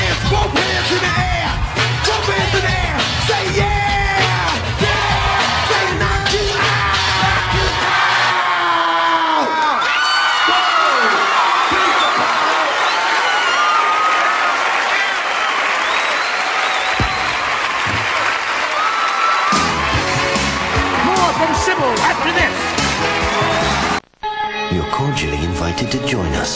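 A large concert crowd at the 1991 MTV Video Music Awards screams, cheers and applauds loudly and continuously, with whoops and yells rising over a dense roar, then cutting off briefly before the noise resumes.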